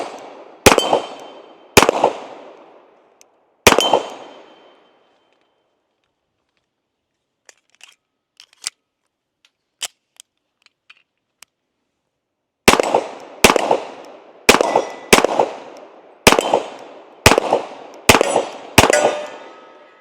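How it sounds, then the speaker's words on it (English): Shots from a SIG 1911 Series X .45 ACP pistol at a range, loud sharp cracks in spaced groups with a quiet gap of faint clinks between, then a faster string of about eight rounds. "let's go ahead and put a few more rounds downrange with the SIG 1911X 45"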